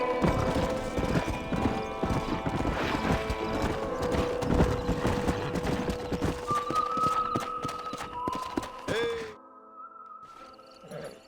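In the Red Dead Redemption video game, horse hooves clip-clop steadily while a horse whinnies and a man calls out to slow it. The hoofbeats fade near the end, leaving quieter ambience.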